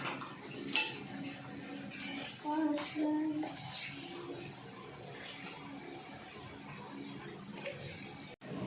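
Water poured into a cooking pot for ginataang talbos ng kalabasa, a steady splashing rush with clinks of pots and utensils and a voice speaking faintly in the background.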